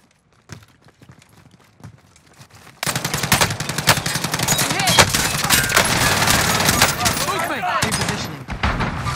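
Rapid automatic gunfire bursts in the video game Call of Duty Warzone, quiet sporadic shots at first then loud sustained firing, with players talking over it.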